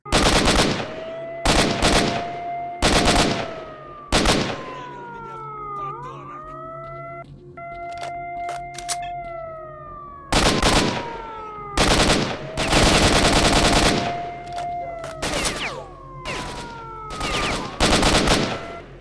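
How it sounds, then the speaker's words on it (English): Gunfight in S.T.A.L.K.E.R. Shadow of Chernobyl: loud bursts of automatic fire and single shots come in uneven clusters, separated by tonal whines and sweeping siren-like sounds, with a dense, busy background between the volleys. "The gunfights you get to in Stalker can range from really intense to a shooting gallery."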